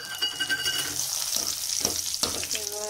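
Curry leaves sizzle and crackle in hot oil while being stirred for an avalakki mixture with field beans, a close, continuous frying hiss with scraping stir sounds.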